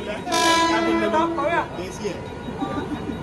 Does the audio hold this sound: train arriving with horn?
yes